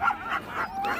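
Sled dogs at a kennel near Canmore give short, high whimpering yips, a few quick cries rising and falling in a faint, brief burst.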